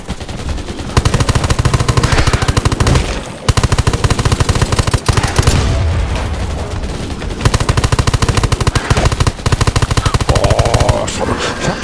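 Rapid automatic gunfire from a weapon in the game Undawn, loud sustained bursts with brief pauses between them.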